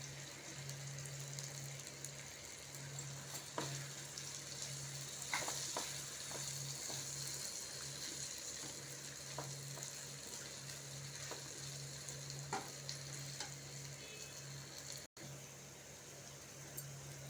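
Chili powder and a roasted ground mix of red chili, fenugreek and mustard seed stirred into South Indian gooseberry pickle make a soft, continuous scraping and mixing sound, quiet and steady with no voices.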